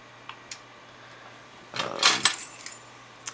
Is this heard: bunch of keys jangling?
yes